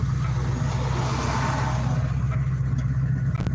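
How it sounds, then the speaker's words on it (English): A 1969 Dodge Dart GTS engine accelerates during a drive through agave fields in Jalisco, Mexico, with a loud, steady low rumble that holds throughout and a few sharp clicks near the end. "Anyone wants to hear the car accelerate?"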